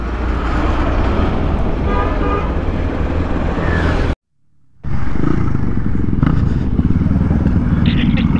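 A group of motorcycles sets off together on an off-road ride: loud, close engines rev and rumble with a horn toot, drop out briefly midway, then resume at full volume.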